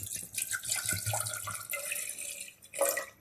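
A cup of water pours into a pan for a coconut pastry syrup, splashing and trickling close by in uneven bursts, with no talking.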